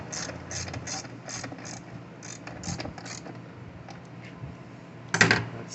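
A ratchet tightens the bolts on the Briggs 300E carburetor of a 20-inch MTD push mower, giving short bursts of rapid clicking, with a louder metallic clack near the end.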